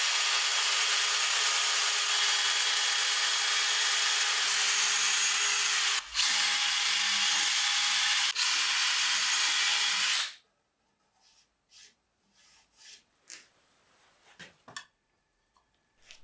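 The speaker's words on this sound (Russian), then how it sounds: "Крепить доски к ножкам буду на саморезы, под которые сразу просверливаю отверстия." A power drill whines loudly and steadily while boring pilot holes for screws in wooden garden-bench boards, with a brief dip near the middle. It then stops, leaving quiet scattered handling knocks.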